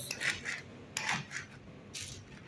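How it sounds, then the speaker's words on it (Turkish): A knife saws through bread during meal prep for a workplace lunch, three rasping strokes about a second apart, close and fairly quiet. "annem ekmekleri doğramaya başladı."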